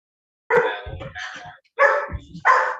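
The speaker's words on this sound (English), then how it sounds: "My dog is barking." A dog barks indoors in a home, four loud, close, sharp barks in two pairs with short pauses between them, and no talking.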